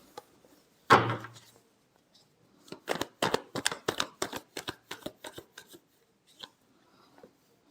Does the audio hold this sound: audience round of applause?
no